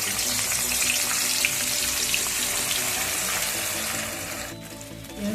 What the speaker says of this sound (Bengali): পেঁয়াজটাকে আমি ব্রাউন করে ভেজে নেব।